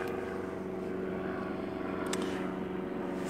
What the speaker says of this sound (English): there's a plane going by